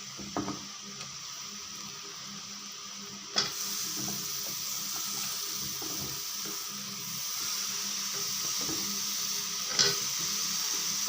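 Cut pumpkin pieces go into duck meat frying in a pan, and a steady, moderate sizzle runs throughout. Occasional sharper knocks and scrapes from stirring break through, with a couple of louder bumps along the way.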